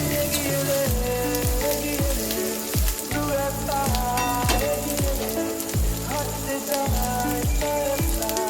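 Onions sizzle steadily in oil in a pan while making a tadka, a close, continuous crackling fry with repeated low thumps of stirring throughout.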